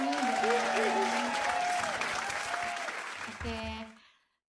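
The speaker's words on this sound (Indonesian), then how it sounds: "Tepuk tangan dong." Applause breaks out in a podcast setting, a steady burst of clapping from a small group with a voice talking over it, before cutting off into silence.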